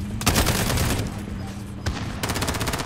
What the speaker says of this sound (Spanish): ¿Por dónde vienen los disparos?